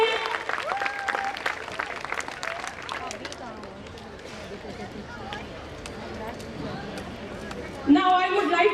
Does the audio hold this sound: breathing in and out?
no